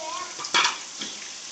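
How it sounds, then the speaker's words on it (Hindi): Garlic, ginger and green chillies frying as masala in a pot for Afghani pulao, with a short burst of sizzle and a stirring scrape, then a quieter hiss. "और अब इसका हम मसाला भून लेंगे।"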